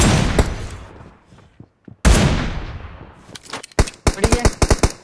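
Gunfire in the mobile battle-royale game BGMI (PUBG Mobile): a burst of shots opens, then after a short lull a loud blast, followed by a rapid string of sharp close shots near the end.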